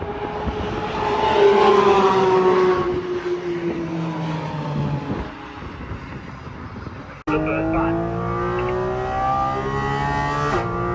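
A Porsche GT4 RS sports car driving on a track: a loud engine note climbs and falls under acceleration, a sharp cut at a gear change, then a renewed rising rev, with faint voices underneath.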